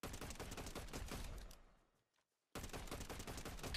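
Rapid Fortnite gunfire at aim-training targets, a fast string of loud shots that fades to a brief silence partway through, then resumes abruptly at full loudness.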